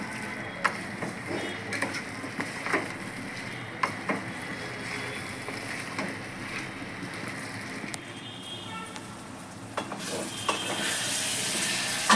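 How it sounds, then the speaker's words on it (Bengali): Spice masala with cumin powder cooks over a low flame in a pan, a low continuous sizzle broken by scraping stirs, growing brighter and hissier near the end. "এই মশলাটাকে ভালো করে কষিয়ে নেব"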